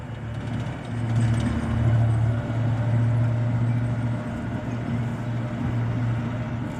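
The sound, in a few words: armored vehicles maneuvering at Tallinn parade rehearsal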